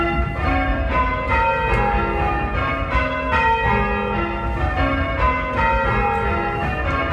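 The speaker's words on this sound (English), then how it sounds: "Compared with how they sound tonight." A full peal of church bells at Litcham rings out in quick succession, bright overlapping strikes continuing steadily, close and loud.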